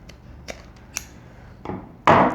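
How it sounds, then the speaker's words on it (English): Scissors trimming the uneven end of a cardboard tube, with a few sharp, separate snips and clicks close by and then a louder, longer crunching cut at the end. "I'm going to trim the end even with my pair of scissors."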